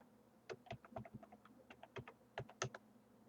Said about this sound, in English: So I'll type in the password,